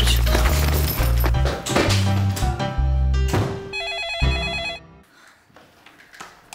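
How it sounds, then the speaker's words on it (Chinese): A telephone rings in a dramatic scene in a student dormitory, its electronic ringtone sounding over loud music that drops away, leaving the repeated tone to fade. "喂，君伟，你怎么会打电话给我？"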